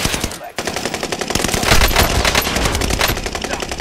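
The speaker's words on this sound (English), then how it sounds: "Out of any other gun, I got a fucking Bren." A Bren machine gun fires in Call of Duty: Modern Warfare in a loud, sustained burst of rapid shots after a brief gap near the start, with faint voices in the background.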